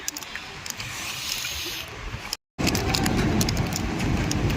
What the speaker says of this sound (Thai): ฝนตกแดดออกครับ